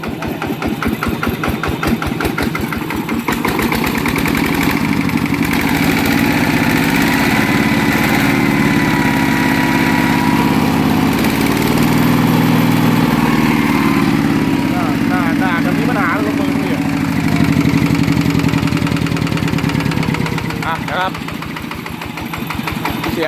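A Yanmar engine brought in by a customer for repair runs steadily and loudly, with a constant mechanical drone and a rhythmic knocking throughout. A person talks over the running engine.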